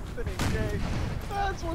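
A cannon booms once during a fort battle in Arma 3 with a Warhammer Fantasy mod, a short loud blast with rumbling battle noise and raised voices around it.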